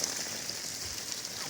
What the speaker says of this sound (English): the rain is back. It is back with a vengeance.